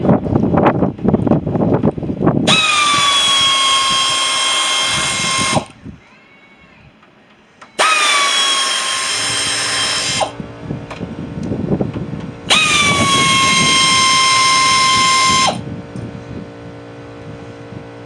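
Power drill backing screws out of the top of a scrap boiler, three long whining bursts with a falling then steady pitch, separated by pauses amid background rumble.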